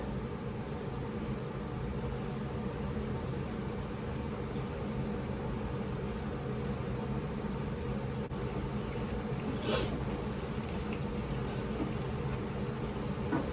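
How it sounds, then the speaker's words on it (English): A steady, even whoosh of a swamp cooler in a kitchen window runs throughout, a constant low mechanical hum with airy broadband noise and no speech. "the swamp cooler that's in the kitchen window"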